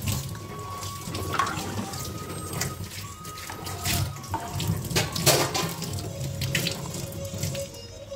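Tap water runs steadily into a kitchen sink while bitter gourds are rinsed and handled beneath it, with splashing shifts and small knocks as the flow breaks over the vegetables.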